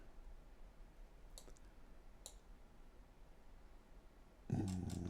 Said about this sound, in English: So we click on there.